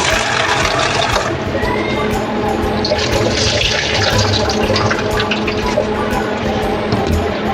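Running water splashes and swirls steadily as mixed pulses are rinsed, loud and close, with faint kitchen sounds behind.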